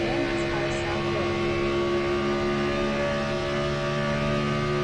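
Race cars lapping a speedway, a steady layered engine drone with sustained harmonic tones holding constant throughout, moderately loud and continuous with no distinct passes or talk.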